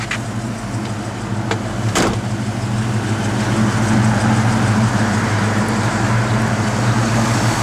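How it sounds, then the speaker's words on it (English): A blower motor in a 1968 Mercury Cougar runs with a steady, loud whirring hum that swells slightly after the first seconds, a brief click near the start, no voices. "but the blower motor does work"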